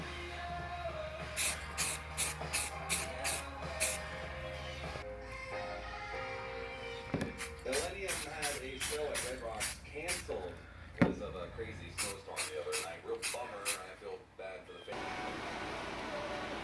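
Spray gun laying a first coat of primer on a car header panel in a home garage: a series of short, sharp hissing bursts in quick rhythmic groups, separated by brief pauses, over a steady low background.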